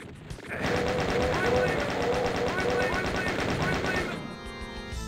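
A plasma gun fires in Voxel Doom 2 in a rapid, evenly spaced stream of loud electric bursts for about four seconds, then stops abruptly and leaves a fading hum.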